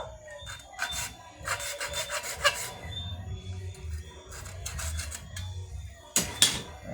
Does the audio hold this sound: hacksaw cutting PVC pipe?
yes